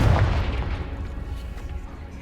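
Confringo fire spell blast in Hogwarts Legacy, a deep booming explosion that hits loud at the start and rumbles away over a couple of seconds.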